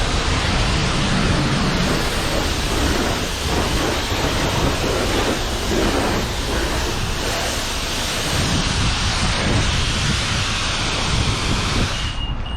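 A pressure-water spray at a self-serve car wash in Halifax, Nova Scotia, is used to rinse a bike. It is a loud, continuous hissing rush, close by and unbroken, that fades out right at the end.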